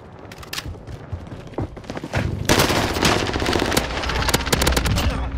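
Video game gunfire from an online shooter match builds from scattered shots into dense, rapid automatic bursts and fusillades, loud and continuous in the second half.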